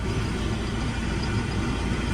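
A Massey Ferguson tractor engine runs steadily and loudly up close, a continuous low rumble with no talk over it.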